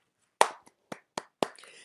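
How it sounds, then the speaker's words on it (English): A man clapping his hands, four sharp, separate claps in an uneven rhythm, close and clear against near silence. "Oh, he clapping for me."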